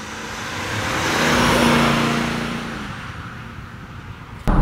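A 1971 Mercedes 300 SEL 3.5 sedan on a road test drive, its engine and road noise swelling to a broad steady hum with a brief tonal drone, then easing off before a sharp knock at the end.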